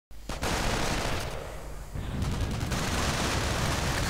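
Dense automatic gunfire and a strafing run rage in a Company of Heroes match, with continuous loud bursts of shots and explosions layered into one thick, unbroken roar.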